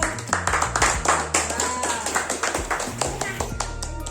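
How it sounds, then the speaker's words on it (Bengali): A group claps along in a steady, brisk beat at a family birthday celebration, right after singing happy birthday. The close, even claps run the whole time alongside voices and low tones. "হাততালি দাও"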